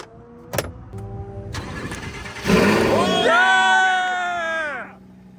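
A Lamborghini Huracan fires up in a garage, the starter cranking before the engine catches with a loud rising bark and a high revving roar that settles and cuts off, amid talk.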